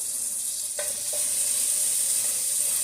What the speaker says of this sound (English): And we're going to let this get to searing.